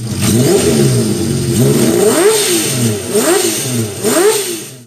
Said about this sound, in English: a 1047cc, double overhead camshaft air-cooled 6-cylinder engine with 24 valves. The sound of this engine was just amazing.